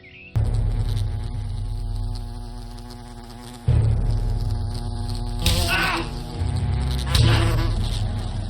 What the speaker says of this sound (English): Wasps are attacking the picnic area.